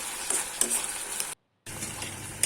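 Leafy greens frying in an uncovered pan give off a steady, bright sizzle with faint stirring scrapes, close and continuous apart from a brief dead-silent gap partway through.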